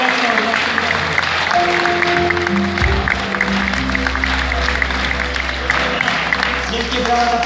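Applause from an audience at a Wiosna party convention in Białystok, a broad steady wash of clapping lasting throughout, with music or a low drone and murmur mixed underneath.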